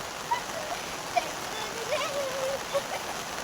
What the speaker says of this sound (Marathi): आणि आता पाऊस पण पडता